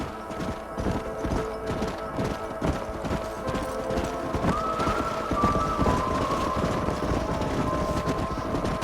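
Steady clip-clop of horse hooves on a hard surface in the video game Red Dead Redemption, continuous and fairly loud, with a rolling rumble underneath.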